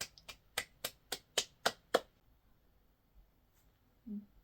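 A child claps hands about eight times in a quick, slightly uneven run of crisp, close slaps, then falls silent apart from a faint low voice near the end.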